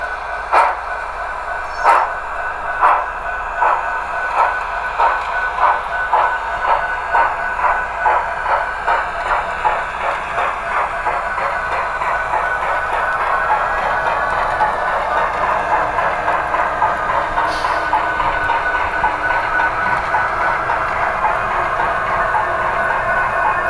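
A model diesel locomotive decoder's dynamic braking sound effect drones with a rapidly pulsing, rhythmic throb that gradually smooths into a steady, louder whine.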